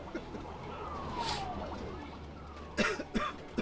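A couple of short coughs near the end, close and moderately loud, after a stretch of steady background noise from a video game with a faint descending tone.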